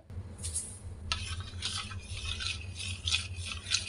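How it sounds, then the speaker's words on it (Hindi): Coconut oil being stirred into amla oil in a small bowl with a spoon, a soft steady rubbing and scraping that carries on with little pause, close and fairly quiet, with no voices. "आपको यहाँ पे नारियल का तेल ऐड करना है और अच्छे से मिक्स कर लेना है"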